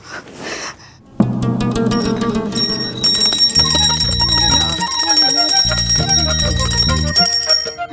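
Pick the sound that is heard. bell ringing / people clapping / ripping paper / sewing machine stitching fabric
bell ringing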